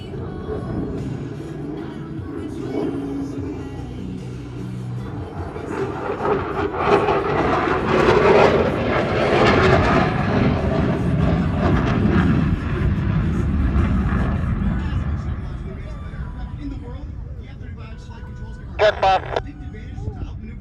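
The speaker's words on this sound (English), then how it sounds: "F-35 through the turn, then powerfully climbing out of the maneuver." An F-35 fighter jet at an evening airshow in Columbus, Ohio banks through a turn and climbs away, a rumbling jet roar building to a loud peak midway and then fading, with a public-address announcer talking throughout.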